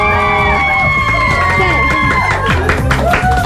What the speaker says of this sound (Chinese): 听到这种欢呼声是习惯了，还是每一次听都会很感动？